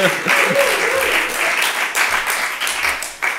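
An audience applauds loudly and close during a French podcast recording, the clapping dense and continuous with brief swells, over talk.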